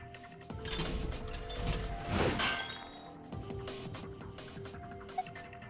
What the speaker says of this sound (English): The glass is broken.